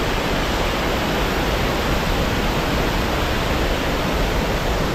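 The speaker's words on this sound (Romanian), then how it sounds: "Ia uite, scurge apa." Water rushes and drains at high speed through an outlet near a port, making loud, dense, continuous broadband roaring that stays steady throughout.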